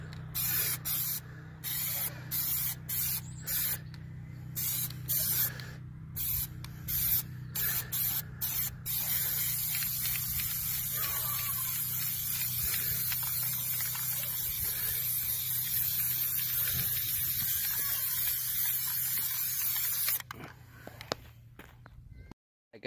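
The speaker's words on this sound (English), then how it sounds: "you sprayed the plasti dip on your wheels" Plasti Dip is sprayed from an aerosol can onto car wheels. Short hissing bursts come first, then one long, steady, close-up spray for over ten seconds before it cuts off.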